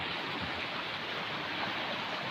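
Glacial meltwater stream running down from a mountain in Kazakhstan's Sairam Ugam National Park, a steady, fairly faint broadband rush of flowing water with no voices.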